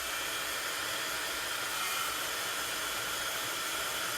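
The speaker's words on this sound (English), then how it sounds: "I'm going to hit this just for a sec with the heat tool just to make sure it's dry" A heat tool blows steadily over stamped ink on paper, a continuous broadband whoosh of hot air held close and fairly loud for the whole stretch, with no talking.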